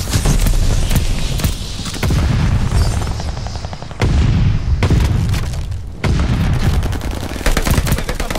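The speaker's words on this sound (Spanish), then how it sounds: "Lanzo una granada." Loud gunfire and booming blasts in Call of Duty Vanguard, repeated heavy bursts and explosions about every two seconds over a dense, continuous battle din.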